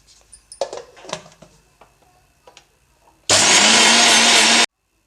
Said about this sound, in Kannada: ಈಗ ಇದನ್ನು ಗ್ರೈಂಡ್ ಮಾಡ್ತೀನಿ